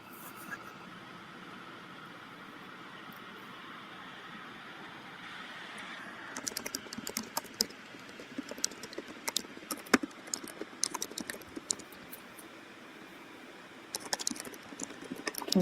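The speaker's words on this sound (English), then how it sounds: "I can hear you typing." Quick, irregular keyboard clicks start partway through and continue in scattered bursts over a steady background hiss, fairly close and moderately quiet.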